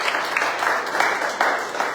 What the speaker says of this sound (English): Clap your hands together for.